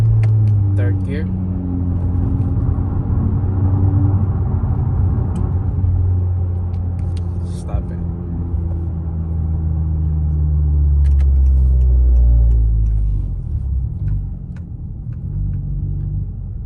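A Honda Accord with its muffler and resonator removed drones loudly as it accelerates, the exhaust note climbing and dropping with each gear change, while someone talks over it from inside the car.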